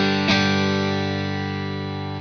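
Clean electric guitar tone through an amp: a single strummed chord rings out and slowly decays.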